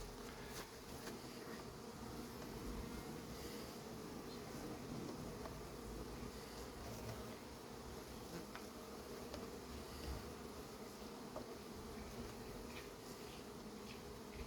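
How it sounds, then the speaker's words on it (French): Honeybees buzz in a dense, steady drone around an apiary of beehives, with individual insects passing close to the microphone over a continuous swarm hum, no talking. "toutes ces abeilles"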